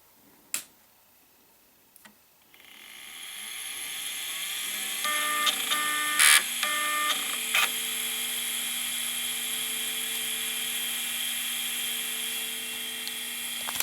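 An old Miniscribe 8425SA hard drive spins up with a rising high whine that settles into a steady tone, while its head on a linear track makes sharp clicks and ticks, close and clear with no talking.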